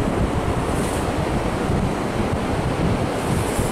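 Ocean surf rolling onto the beach at Fermoyle, County Kerry, Ireland: a steady, loud wash of breaking waves with wind buffeting the microphone throughout, no voices.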